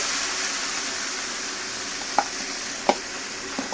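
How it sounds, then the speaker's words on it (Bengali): Soaked dal lentils frying in a pan while goat head is being cooked: a soft, steady sizzle with a few sharp scrapes and clinks of stirring. "ডালটা দিয়ে আমরা একটু ভেজে নেবো"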